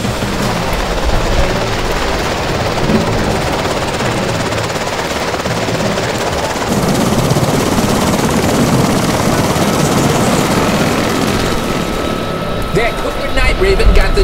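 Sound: helicopter flying in

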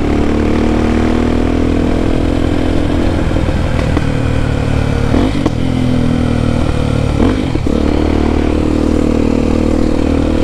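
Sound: Honda XR Tornado motorcycle with Belparts Classic exhaust popping

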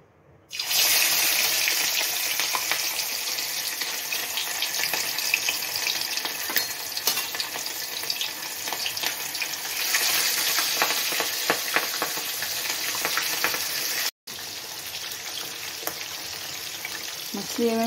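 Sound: fish frying in hot oil in a wok

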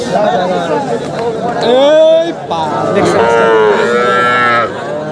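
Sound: cattle mooing at a livestock market

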